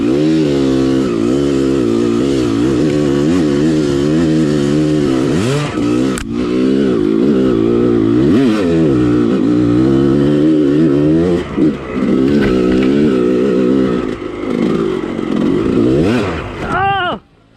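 A motorcycle engine revs hard while accelerating in second gear, with loud, close, rising and falling surges and a few brief dips before it cuts off abruptly.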